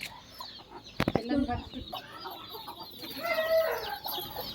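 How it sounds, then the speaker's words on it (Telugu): Fighting cocks raised for cockfights cluck and squawk in short bursts, with a sharp flurry of wing-flapping and scuffling near the start, over a busy farmyard background. "ఇవి మామూలు కోళ్ళు కావంట ఇవి పందెం కోళ్ళంట"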